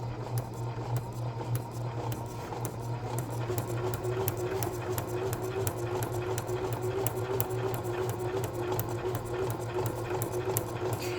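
Sewing machine running straight stitches in a practice session, a steady close hum with rapid even needle clatter throughout, no speech.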